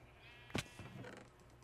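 A single sheep in Minecraft lets out a short, clear bleat, followed by a softer, wavering second bleat, over quiet background with no talking.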